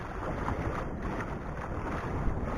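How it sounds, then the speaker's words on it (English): A sailboat motoring under engine at about 4.5 knots in dead calm, a steady low engine drone mixed with wind buffeting and water wash, continuous and unbroken. "woke up this morning still motoring, dead calm"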